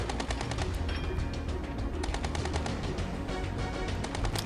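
Anti-aircraft guns aboard the heavy destroyer Yuudachi in the naval game NavalCreed, firing continuously in a dense, rapid rattle of shots over a steady roar, loud and close throughout.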